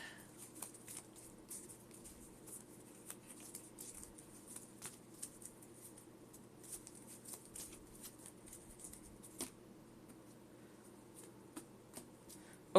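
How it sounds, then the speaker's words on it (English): Pokemon trading cards are shuffled back into a deck in a long run of soft, faint shuffling and patter, with no talking. "I shuffle them back into my deck."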